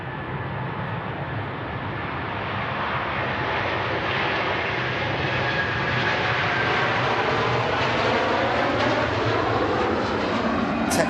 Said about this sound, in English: Textbook departure from the Virgin A330.